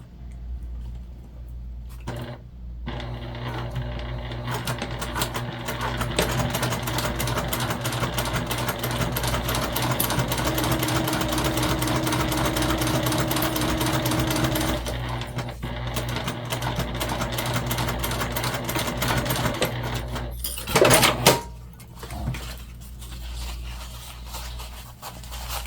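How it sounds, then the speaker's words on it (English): A sewing machine stitches a fabric pouch seam in one long, steady run of rapid mechanical whirring and needle clatter, followed by a brief clunk and a short pause near the end. "we're gonna sew this on at the full seam allowance"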